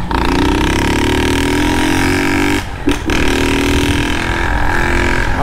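A Honda Start 160 motorcycle with a modified loud exhaust revs hard up close, its raw rasping engine note climbing, dropping briefly into a sharp off-throttle gap, then roaring back and holding high.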